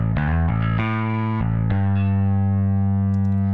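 The Toontrack EZbass virtual bass plugin plays a deep, sustained electric bass line with a few note changes before settling on one long held low note, heard up close with no talking.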